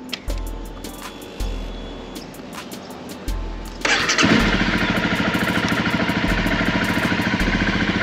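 A Honda CRF 250 Rally motorcycle engine cranks with a few soft clicks, then fires up loudly and settles into a steady, rumbling idle close by.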